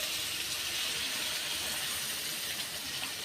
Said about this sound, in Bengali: এবার পরিমাণ মতো জল দিয়ে দেব।